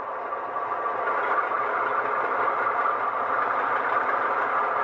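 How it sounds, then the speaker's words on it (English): A diesel prime mover from a Tsunami 2 sound decoder in a model locomotive drones steadily and evenly at a moderate level throughout, with no other sounds. "That is increased RPM of the prime mover"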